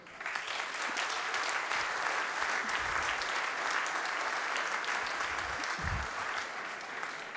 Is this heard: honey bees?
no